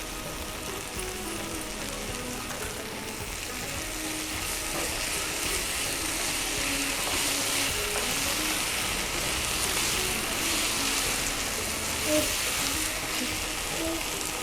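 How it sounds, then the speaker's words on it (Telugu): Ginger garlic paste sizzling in hot oil while frying okra, a steady dense crackle and hiss that continues throughout, moderately loud and close. "అల్లం వెల్లుల్లి పేస్టు 1 స్పూన్ వేస్తాను చూడండి."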